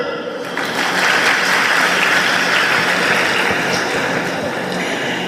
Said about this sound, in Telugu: మీ అందరికీ చప్పట్లు